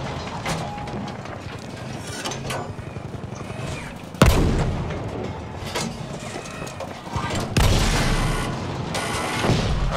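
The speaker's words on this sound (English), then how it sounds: "Oh god, someone's shooting us." Gunfire and booming blasts aimed at a tank in the video game Battlefield V, with sharp loud cracks around four and seven and a half seconds over continuous rattling combat noise and mechanical clatter.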